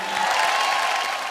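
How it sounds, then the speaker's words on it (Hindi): Dense applause from a comedy show's studio audience, a steady broadband clatter of many hands clapping at full volume throughout, with no speech over it. "जोरदार तालियां नसीम और पूजा के लिए।"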